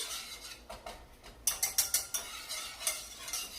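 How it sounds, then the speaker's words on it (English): Flour is stirred into melted butter in a pot to make a roux for mac and cheese. Soft scraping at first gives way to a quick, rhythmic run of close, bright scrapes and clicks, with no voices. "And then we're going to add the flour to it as well. And then you're just going to stir that in."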